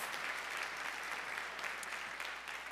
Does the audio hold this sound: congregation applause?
yes